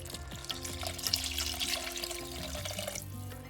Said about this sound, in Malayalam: ഞാനിപ്പോൾ ഇതിൻ്റെ പകുതി വെള്ളമാണ് ഒഴിക്കുന്നത്